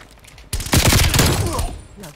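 A sentry turret in Call of Duty Cold War zombies lets off a loud, close, rapid burst of gunfire lasting over a second, right after a brief lead-in of quieter game noise.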